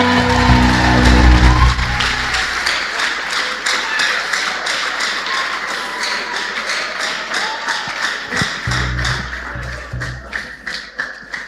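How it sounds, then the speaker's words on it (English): A church congregation claps at a sermon gathering, starting over a low hum before settling into a loud, fairly even stream of hand claps that grows choppier toward the end. "Give the Lord a clap of reverence if you believe"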